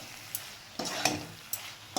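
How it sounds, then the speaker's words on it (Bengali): Flour being stirred into cooking potato and eggplant for a vegetarian chickpea-greens dish, a few soft scraping strokes with faint sizzling between them, close and fairly quiet. "এটাকে ভালো করে নাড়াচাড়া করে মিশিয়ে নেব, যাতে এর সঙ্গে ভালো করে মিশে যায়"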